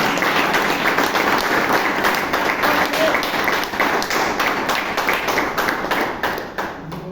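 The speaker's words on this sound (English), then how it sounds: "can you show me by giving a round of applause?" Applause from the audience at a Toastmasters club meeting in Bangalore, a dense steady clatter of many hands that holds level for about seven seconds before thinning and fading at the end.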